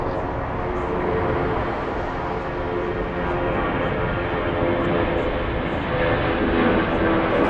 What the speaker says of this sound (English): That's Lufty Flight 432 on its way to Chicago on another A340-300.